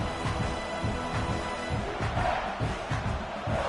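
A large college football stadium crowd roars steadily at a distance, a dense wash of cheering and chatter with no single voice standing out.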